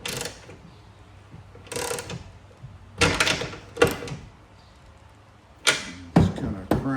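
A ratchet wrench with a 16mm socket tightening a bolt on a Toyota Tacoma tailgate, several close bursts of rapid clicking separated by pauses.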